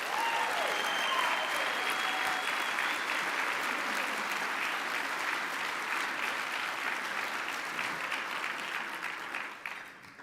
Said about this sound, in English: Let's give our 2025 Hall of Fame class one more round of applause.